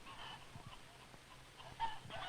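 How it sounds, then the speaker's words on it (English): A rooster and hens at a poultry farm hatchery give faint, soft clucks and brief calls over a quiet, hissy background. "The father chicken, the rooster."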